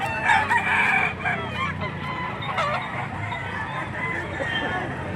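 Chickens and a rooster at a poultry market in Padre Garcia, Batangas crow and cluck close by in overlapping bursts, with a steady crowd murmur beneath.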